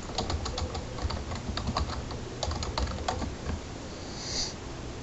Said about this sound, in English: now let's type in Google Chrome